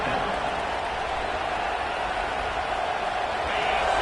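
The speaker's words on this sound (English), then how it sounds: "This crowd bringing the energy and noise early." Dense, steady roar of a large stadium crowd at a Michigan vs Iowa football game, a continuous wash of noise with no distinct voices standing out.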